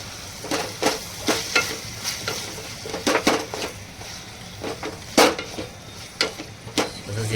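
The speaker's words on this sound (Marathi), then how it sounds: "तसंच या साईडला आपण बारीक चिरलेली कोथिंबीर आहे ती टाकूया त्याच्यामध्ये आणि परतून घेऊया थोडीसं" Chicken soup base with red chili sauce, Schezwan chutney and chopped coriander sizzling in a pan, stirred by hand with irregular scraping clicks over a soft, steady fry, close and fairly quiet.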